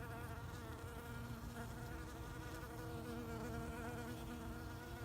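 Honeybees buzz steadily at the entrance of a beehive during a first hive inspection, a dense, continuous swarm drone that stays close and loud throughout with no talking.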